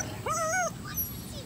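A German Shepherd puppy lets out a soft, high whimper, a short rising and falling whine, then a faint second yip against a quiet room hum.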